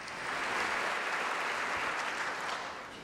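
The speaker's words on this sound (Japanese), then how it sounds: "今日の演奏者の皆さんに拍手で感謝の意を表しましょう。" Warm, steady applause fills a hall at the 2009 Inamori Ethics Prize ceremony as the audience thanks the performers, a dense wash of clapping that rises quickly and holds evenly throughout.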